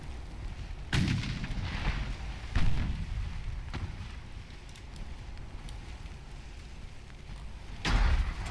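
Naval gunfire in the Ultimate Admiral Dreadnoughts video game, pre-dreadnought warships in gun training, three heavy booming salvos spaced seconds apart over a steady background rumble of sea and wind.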